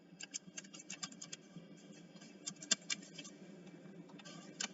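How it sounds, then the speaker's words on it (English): Typing on a computer keyboard to re-enter an email address, a quiet run of irregular clicking keystrokes with brief pauses, close and clear against a near-silent background. "In confirm email section, just retype the above entered email."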